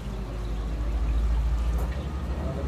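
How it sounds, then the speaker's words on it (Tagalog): Water poured into a cooking pot in an outdoor resort kitchen, a steady continuous pouring rush with no talk over it. "At sasabaw na po natin yan ng tubig."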